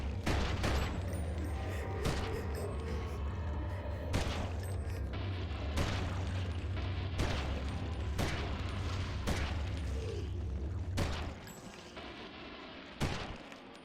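Heavy shots ring out at roughly even intervals in the video game Eternal Darkness, each a sharp booming report over a steady low game drone, loud and close.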